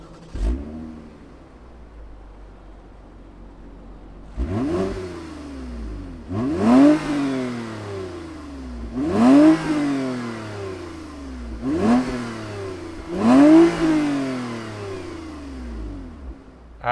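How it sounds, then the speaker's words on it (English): A 2021 Toyota Camry TRD with a catback exhaust revs hard several times, each loud rising blip falling back to a low idle, close and without talk. "let's fire this up because it's got a catback exhaust and I want to hear what it sounds like."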